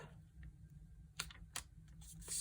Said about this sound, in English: I'm going to take the lower raw edge here, and I'm going to fold it up